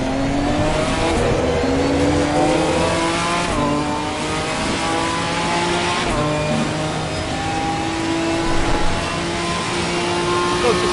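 A Ginetta GT4 race car in Assetto Corsa Competizione howls continuously, its engine note climbing and dropping through gear changes with brief tire scrub, loud and close with no talk.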